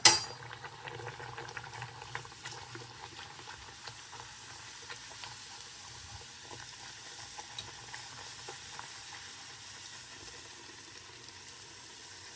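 Bhatura dough fries in hot oil, giving a faint, steady sizzle and crackle with occasional soft bubbling pops, after a brief splash at the start, with no talk.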